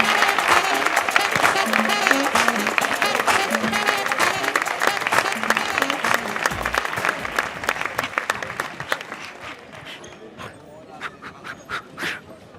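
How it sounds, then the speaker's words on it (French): A studio audience at a French comedy show breaks into loud, sustained applause. Dense clapping and cheering fill the room, then gradually thin out into scattered claps near the end. "faites beaucoup d'applaudissements pour un honorable parlementaire qui nous vient d'Algérie"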